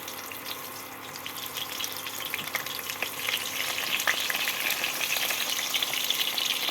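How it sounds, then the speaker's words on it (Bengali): Cut eggplant hits hot mustard oil in a wok, giving a steady crackling sizzle that builds slightly and continues throughout, close and moderately loud, with no voices. "কড়াইতে দিয়ে দিচ্ছি খানিকটা সর্ষের তেল তেলটা গরম হয়ে গেছে এবার দিয়ে দিলাম কেটে রাখা"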